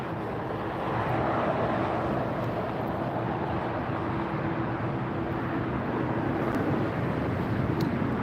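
A Lufthansa Airbus A340-300 from Frankfurt lands at LAX, its broad steady jet roar sustained and fairly loud throughout with a faint wind rush, no talking.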